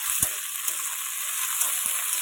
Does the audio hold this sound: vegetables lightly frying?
yes